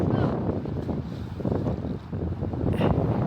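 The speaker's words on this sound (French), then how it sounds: "C'est venteux, hein?" Strong wind buffets the microphone at Sydney harbour, a loud, low, gusting rumble that surges and dips throughout the clip.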